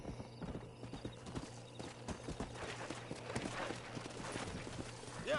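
A horse's hooves clip-clop at a steady walking pace in the video game Red Dead Redemption, close and clear over a faint low background hum.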